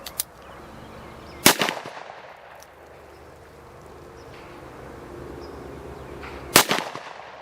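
Two sharp, loud gunshots from a Taurus 605 snub-nose revolver firing Winchester .357 Magnum hollow points, spaced about five seconds apart outdoors, each cracking hard then fading quickly over low background hum.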